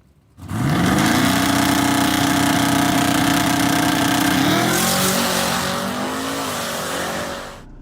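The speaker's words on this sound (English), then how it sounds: "As the truck takes off, midway through low gear" A turbocharged drag-racing pickup truck launches down the track, its engine roaring loud and close as it revs up and shifts, and the pitch drops and climbs again before the sound fades away.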